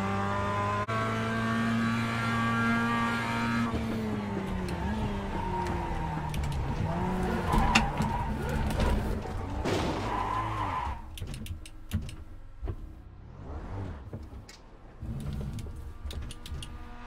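A race car in the iRacing sim skids and spins out, its engine note dropping while tires squeal. Then come scattered scrapes and bumps as it slides to a stop, loud and close, with no talk.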